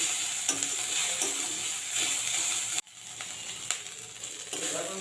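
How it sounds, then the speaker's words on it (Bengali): Ginger-garlic paste fries in a pan with slit green chillies, a steady broadband sizzle punctuated by stirring scrapes, with one brief dropout near the middle before the frying resumes. "আদা রসুনটাকে আমি একটু ভেজে নেবো যতক্ষণ না কাঁচা গন্ধটা যাচ্ছে"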